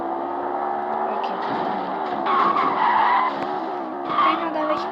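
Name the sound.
car skidding in a video game racing game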